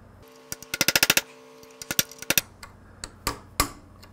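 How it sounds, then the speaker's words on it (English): A hammer tapping a sharp chisel set in a slot to crack the steering head bearing race of a BMW R90/6 motorcycle, a quick burst of sharp metallic raps followed by several spaced, louder single strikes, close and clear. "now on that spot I should be able to crack it with a sharp chisel"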